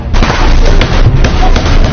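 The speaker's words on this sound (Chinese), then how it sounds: "狭路相逢，枪声猝然而起" Gunshots ring out in a sudden close-range confrontation, several loud booming bangs in an irregular burst over a dense, rumbling background.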